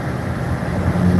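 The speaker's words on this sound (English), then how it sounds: "I apologize for the wind noise." Steady rushing wind noise buffets the microphone over a low road rumble inside a moving vehicle, continuous and fairly loud.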